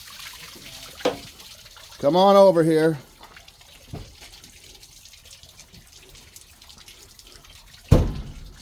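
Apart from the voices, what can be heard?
water spilling onto the alternator of a 1997 Ford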